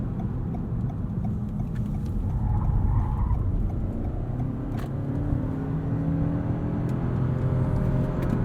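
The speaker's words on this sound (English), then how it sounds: "I'll show you how this Avalon handles." A 2021 Toyota Avalon Hybrid Limited takes a series of corners, heard from inside as a steady low road and engine hum with faint tyre noise and a few light ticks, fairly quiet and even.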